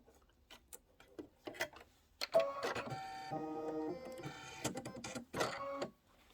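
An embroidery machine stitches the ribbon casing of a Kimberbell Santa cinch sack in white thread: scattered ticks and clicks first, then a sustained mechanical whirring run with stops, close and clear.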